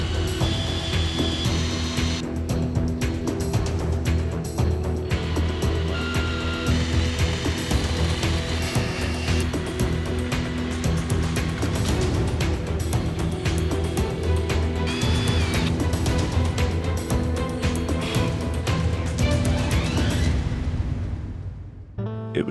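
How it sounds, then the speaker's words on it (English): A power drill bores wiring cavities into a wooden electric guitar body, a continuous loud grinding, rattling whir with shifting pitch and clatter, running steadily close up before cutting off at the end. "it was time to drill the cavities for the wiring"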